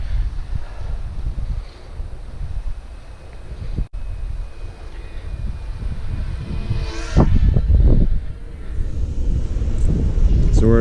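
Wind blows outdoors during a Mavic Mini drone flight, a steady low rumble of buffeting against the microphone that grows louder in gusts toward the end, with a person talking.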